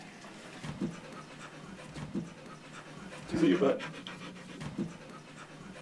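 A dog panting close by in rapid soft breaths, with someone talking intermittently over it.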